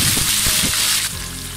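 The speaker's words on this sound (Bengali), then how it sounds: "আমি পেঁয়াজ বাটা দিয়ে দিচ্ছি ভিউয়ার্স। আমি ভেজে নিচ্ছি" Onion paste frying for a restaurant-style chicken soup gives a loud, dense close sizzle with a few soft clinks, the hiss easing slightly near the end.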